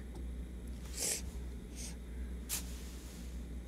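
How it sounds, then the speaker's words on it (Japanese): A few short, breathy sniffles close to the microphone, spaced irregularly over a low steady background hum. "ズルズルして鼻かめよって話なんだけどさ"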